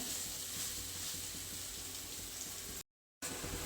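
Paneer bhurji sautéing in a pan on full gas, a steady broadband sizzle with faint stirring scrapes, fairly quiet and continuous, broken by a brief silent gap near the end.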